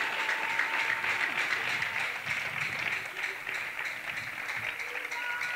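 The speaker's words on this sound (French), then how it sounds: "Si tu es prêt, acclame très fort le Seigneur." A church congregation applauds and acclaims the Lord with steady, dense clapping that fills the room throughout, mixed with voices calling out.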